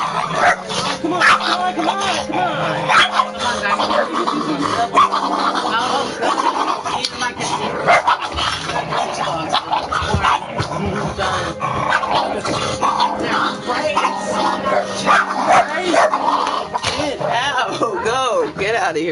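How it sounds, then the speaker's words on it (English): Dogs bark, yip and whimper excitedly and almost without pause within the Stranded Deep game, someone talking over them throughout. "get out of here, crazy dog."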